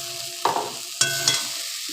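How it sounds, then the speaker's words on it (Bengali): Ginger, onion, chilli and tomato masala sizzles in a pan for a tengra fish curry, a steady close hiss broken by a few sharp spatula scrapes and stirs, with no voices. "আদা, পেঁয়াজ, লঙ্কা, টমেটো, কাঁচা লঙ্কা সমস্ত ভালোভাবে ভাজা হয়ে গেছে"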